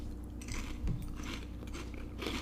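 Sweet onion snack rings, a bit moist from sitting out, are crunched and chewed up close, with repeated crisp bites and chewing noises over a steady low background hum and no talking.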